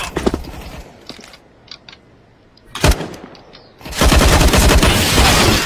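Gunfire from a weapon in a video game: scattered shots early, a sharp burst near three seconds, then sustained loud rapid firing through the final stretch, with no talking.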